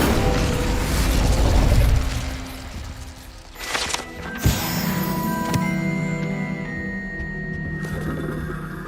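A fire spell is cast in Hogwarts Legacy, a loud whooshing burst near the start that rolls into a rumbling blast, followed by a sharp crack and a lingering magical ring that fades out.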